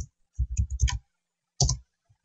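Keyboard keys click at close range: a quick burst of four or five taps, a short pause, then one or two more sharp clicks, with no talking.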